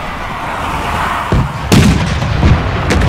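Volley of artillery in Total War: Empire, heard as a series of sharp booming reports at about 1.3, 1.7, 2.5 and 2.9 seconds over a steady rumble of battle ambience, with no voices.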